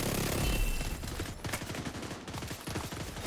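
In The Division 2, rapid automatic gunfire rattles in dense, close bursts, with shots firing almost continuously.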